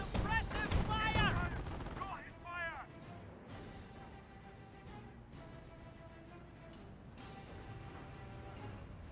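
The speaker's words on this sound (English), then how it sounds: "suppressive fire!" Machine gun suppressive fire crackles in Company of Heroes as a stream of sharp distant shots, first under a caster's excited talk, then continuing with scattered louder reports against steady battle noise.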